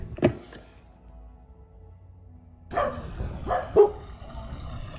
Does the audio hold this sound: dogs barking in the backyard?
yes